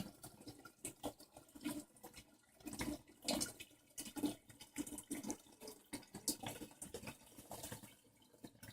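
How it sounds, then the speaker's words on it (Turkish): Water siphoned out of an aquarium into a 10-litre canister, a faint, irregular trickle and splashing with soft gurgles that continues throughout at low level. "Şimdi akvaryumdan arkadaşlar o 10 litrelik bidonun yarısına kadar su çekeceğim."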